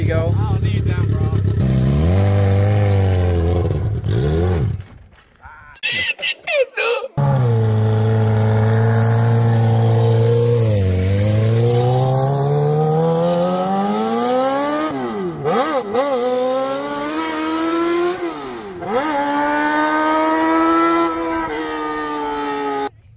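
A motorcycle engine revs hard under throttle, loud and close, with long rising and falling pitch sweeps. A brief drop in the middle is followed by repeated surging revs, and people talk over it.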